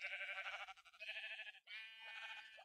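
Sheep in the Minecraft video game bleat in three quick wavering calls, loud and close with short gaps between them and no talking.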